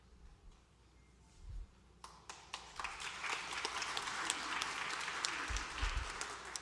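Audience applause at a recognition ceremony for board-certified teachers, starting from a quiet room with a few scattered claps, then swelling into sustained clapping from a crowd for several seconds.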